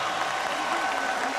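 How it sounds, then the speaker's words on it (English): Dense, steady crowd applause fills an arena after a championship boxing match between Pacquiao and Morales, a continuous wash of clapping with no distinct individual claps. "A round of applause for both of these gladiators."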